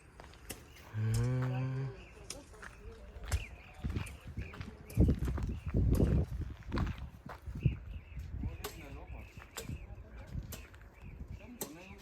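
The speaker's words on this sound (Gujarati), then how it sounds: "ગાય ને એનું વાસરડું" A cow and its calf at a large forest park fair in Gujarat, one clear low moo near the start, then footsteps, shuffling and people talking nearby.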